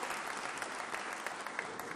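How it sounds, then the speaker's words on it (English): Steady clapping from guests at a university welcome dinner, a dense round of applause that stays even and somewhat distant throughout. "all of our colleagues at Carnegie Mellon a round of applause"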